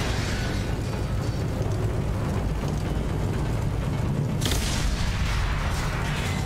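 A continuous roar of heavy explosions and rumbling blasts fills the sci-fi game Mass Effect 2 Legendary Edition, loud and dense throughout, with a sharper burst breaking through partway.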